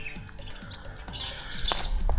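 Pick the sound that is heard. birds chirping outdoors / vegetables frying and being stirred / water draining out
birds chirping outdoors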